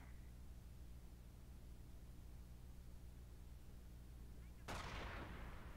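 Company of Heroes gunfire aimed at a machine gunner: a low battlefield rumble hums quietly until one sudden loud blast erupts near the end and rings out.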